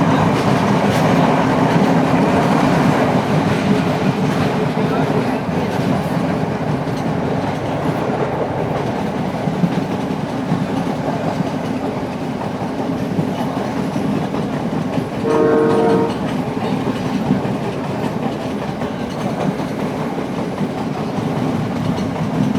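A train runs on a single-track coastal line near Colombo, Sri Lanka, along the Indian Ocean: a steady, loud rolling rumble with clickety-clack continues throughout, broken by one short horn blast partway through.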